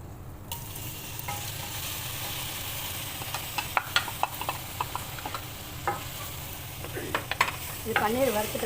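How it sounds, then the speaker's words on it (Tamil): Paneer frying in butter in a pan for paneer butter masala, a continuous soft sizzle with sharp spatula clicks and scrapes growing busier toward the end. "பட்டர் போட்டிருக்கிறேன். இப்போ பன்னீர் இதில் வறுத்தெடுக்கணும்."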